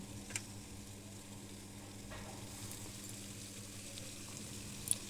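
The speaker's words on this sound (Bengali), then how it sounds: "কষানোর বলো বা তরকারির যে শব্দগুলো আমার কাছে ভীষণ ভীষণ ভালো লাগে" Fish curry with pea greens sautéing in a covered pan gives a faint, steady sizzle with soft stirring clicks and a low background hum throughout.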